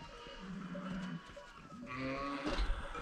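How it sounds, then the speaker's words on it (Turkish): Sheep and cattle from a 300-sheep, 12-cow mixed herd in a winter village pen in Göknebi, with several bleats and a low moo at close range over steady farmyard noise. "bu büyük abimin koyunlarının yanındayız"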